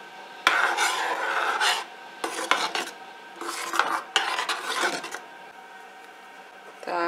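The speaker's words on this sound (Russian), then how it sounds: "И все это перемешиваю." A spoon scraping and clinking against a pot while stirring a jelly candy mixture with walnuts, in irregular bursts of rubbing and metallic taps separated by short pauses.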